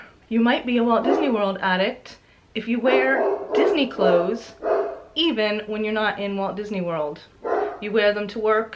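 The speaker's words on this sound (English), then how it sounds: "Sorry for my dog barking." A pet dog barks in short, repeated bursts indoors while a person keeps talking steadily over it, the voice staying in front.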